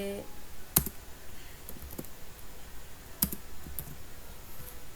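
A computer keyboard tapped in sparse, separate clicks, a few louder keystrokes standing out over a soft background hiss, with a voice talking over it.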